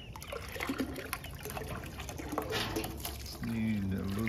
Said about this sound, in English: We get some water this way.